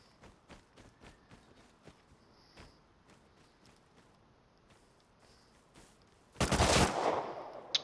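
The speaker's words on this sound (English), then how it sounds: "He's getting shot at." Gunfire in the video game Rust, a series of sharp single shots spaced through the clip, moderately distant, followed by a loud dense burst of fire near the end.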